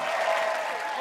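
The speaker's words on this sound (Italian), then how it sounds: "Un applauso al nostro ospite Brendan Schaub." A brief burst of loud, dense studio audience applause for a guest on the TV show Ridiculousness, close and continuous for about a second.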